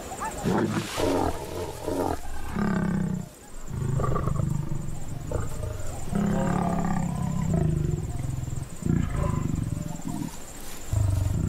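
A mating pair of lions in the Maasai Mara, the lioness snarling and growling harshly as the male withdraws, with deep rumbling roars rising and falling close by in repeated bursts.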